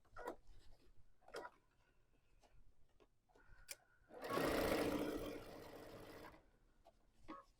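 A sewing machine stitches quilt binding in a burst of about two seconds, loud and close, after quieter scattered ticks and clicks of handling fabric.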